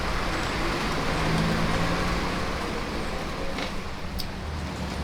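A shuttle bus passes near a resort room at Disney's Old Key West, a steady broadband road rumble that swells around the middle and fades, fairly quiet, with no beeping and no talk.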